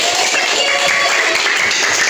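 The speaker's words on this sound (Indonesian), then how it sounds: "Tepuk tangan untuk kelompok Gusti" A classroom of students applauds a student group after its presentation, a dense, steady patter of many hands clapping together close by.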